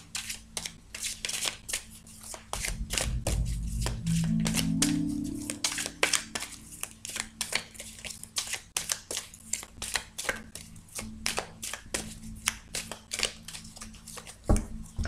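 Cartomancy cards being shuffled and cut, a long run of rapid crisp flutters and riffles followed by many sharp slaps and taps as the deck is handled, close and fairly loud with no talking.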